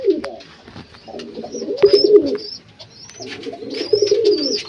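Fancy pigeons coo in their straw-lined loft, two drawn-out rounds of low throaty cooing with brief higher chirps and flutters, close by and clear with no talk.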